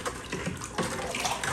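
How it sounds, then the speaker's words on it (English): Water pours steadily into a gallon jug of blueberry wine, topping it up, a continuous splashing gush close by with no talking. "We'll finish putting in more water in."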